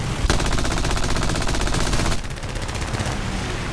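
Machine gun fire in War Thunder air arcade combat from an I-15 biplane: continuous loud rapid-fire bursts with a fast, even rhythm, briefly easing before the shooting resumes under engine drone.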